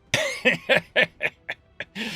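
A series of about eight short, sharp coughs in quick succession, close by, each burst a little weaker than the one before.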